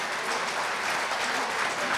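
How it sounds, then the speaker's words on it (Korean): Steady, dense applause from an audience honoring award winners at a high school alumni association's New Year gathering and general meeting, a continuous wash of clapping with no pauses and no talk over it. "네, 큰 박수로 맞아주시기 바랍니다."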